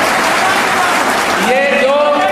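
Crowd at a political rally in Sidhauli, Uttar Pradesh, applauding to welcome a speaker, a dense steady wash of clapping that carries on throughout while people speak over it.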